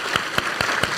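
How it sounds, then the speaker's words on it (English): Audience at a climate change conference in Indonesia claps for presenters, heard as a few distinct, evenly spaced claps that sound sparse and fairly close rather than a full ovation. "Please, another round of applause for the presenters today, Liam and Jemma."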